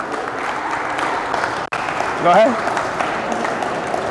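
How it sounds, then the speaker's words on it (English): Audience applause breaks out at a 2019 summer basketball draft as picks are announced, a steady wash of clapping throughout with a brief dip partway and a voice and whoops rising over it. "Clap it up, clap it up."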